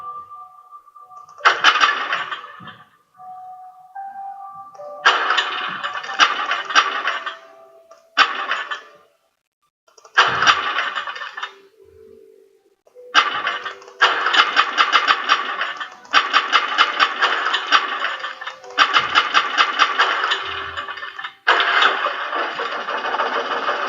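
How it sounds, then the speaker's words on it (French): An old generator in the video game Alan Wake sputters and turns over in a run of repeated starting bursts separated by short pauses, close and fairly loud, with no talk. "Un vieux générateur était raccordé au câble électrique."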